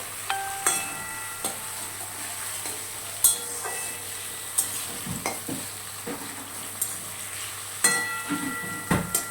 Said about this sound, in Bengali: জাস্ট এবার একটুখানি ফ্রাই হওয়ার বাকি, একটু লাল লাল করে ভাজা হলেই এটা নামিয়ে নেব।